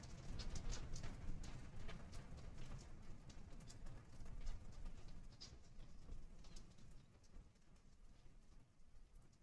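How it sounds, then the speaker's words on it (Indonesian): Heavy rain pours down outside, a dense, steady wash of patter with scattered sharper drips and a low rumble, fairly loud throughout with no talking. "Ini hujan deras nih."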